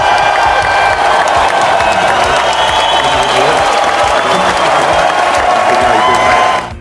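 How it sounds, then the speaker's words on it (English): Loud, steady applause from a school assembly crowd greeting a pupil called up for a certificate, with sustained dense clapping and a little voice in the mix, then cutting off sharply at the end. "Let's give him a big round of applause."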